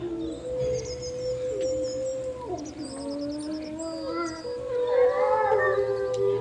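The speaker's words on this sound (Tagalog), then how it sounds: "sinabayan ng alulong ng aso na nakaharap sa bilog na buwan" A dog howls in long, wavering, drawn-out cries that rise and fall, joined by higher whining howls near the end, over a low steady background.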